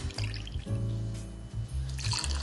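Jamaican rum, full-bodied and molasses-fermented, is poured into a cocktail glass or jigger in short glugging bursts with brief breaks, close and clear with no talk.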